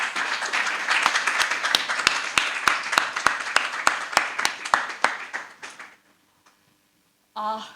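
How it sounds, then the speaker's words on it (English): Big round of applause at a PG diploma induction program welcoming a new batch of members: loud, rhythmic clapping with sharp individual claps, fading out around six seconds into near silence before a voice starts speaking. "please join me to give a big round of applause for each one of you."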